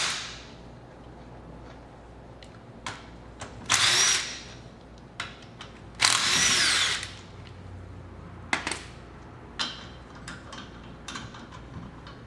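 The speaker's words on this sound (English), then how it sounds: "We're going to use an electric impact. It's going to take the lug nuts off really fast." An electric impact wrench takes lug nuts off a car wheel with two loud, rattling bursts of hammering lasting about a second each. Sharp clicks, ticks and a shorter third burst sound between them in an otherwise quiet garage.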